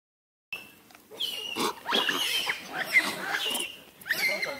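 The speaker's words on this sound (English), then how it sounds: "A wild boar." A wild boar grunts and snorts close by in a rapid, irregular series of rough, nasal calls with short pauses between bursts.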